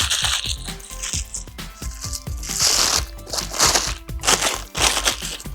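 Parchment paper is crunched up by hand for lining a brownie pan, producing loud, close crinkling and crackling in repeated bursts over several seconds, with no speech.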